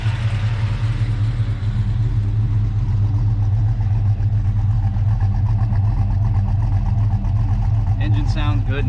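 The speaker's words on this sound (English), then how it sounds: "Engine sounds good and healthy." A Chevrolet Silverado engine idles steadily with a low, constant rumble, recently fitted with custom PTFE transmission cooler lines; a voice talks over it and a brief clatter comes near the end.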